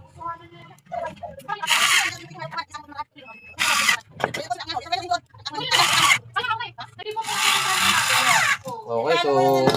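A power tool whirs in repeated short bursts as it backs screws out of an air fryer that has no power, with someone talking in between the bursts, all close and loud.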